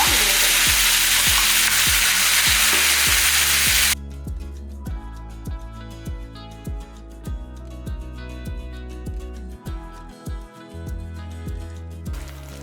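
Tomato paste and spices sautéing in a pan give a loud, dense hiss for the first few seconds. Background music with a steady beat then takes over and runs to the end.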